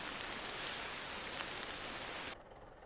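Steady rain falling in the driving game Motor Town: Behind The Wheel, a dense even hiss that carries on without a break and then drops abruptly quieter near the end, with no voices.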